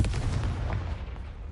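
A Confringo fire spell explodes in the Hogwarts Legacy video game, a loud, close, rumbling blast with heavy low-end boom that rolls on and slowly fades over about a second and a half.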